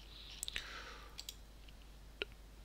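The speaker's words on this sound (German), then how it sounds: "Dann klicke ich hier noch einen zweiten an, zum Beispiel Johannes" Faint, sparse computer mouse clicks during online registration in a screencast: a few quick taps close together, a pair a moment later, then one more, over a low steady hum.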